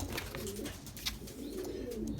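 Belgian racing pigeons in a loft coo softly and steadily, low murmuring calls overlapping from several birds at a moderate distance, with faint rustling and no talk.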